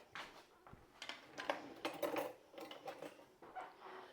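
Metal cutlery clinks and rattles in a kitchen as a knife is fetched for slicing vegan garlic bread, with a series of irregular, close clatters and scrapes of varying loudness.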